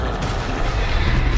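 The Confringo fire spell in the Hogwarts Legacy video game goes off during a troll fight as a loud, dense, rumbling blast that fills the whole moment without a break, with no voices over it.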